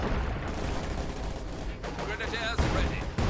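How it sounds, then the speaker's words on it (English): SU-76 artillery barrage in the video game Company of Heroes 2 during a 4v4 match, dense overlapping gunfire and explosion blasts rumbling continuously and loudly, with a voice talking over the din. "SU-76 from HansMoleman barraging on the loops."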